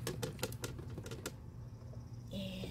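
Kitchen scraps dumped into an outdoor compost bin: a quick run of sharp clattering thumps as the scraps tumble in, followed by quieter rustling.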